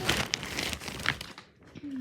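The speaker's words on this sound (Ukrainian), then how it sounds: "Я її сховаю в пакет маленький." A small plastic bag crinkles in short rustling bursts close by, with a voice talking over and between the crackles.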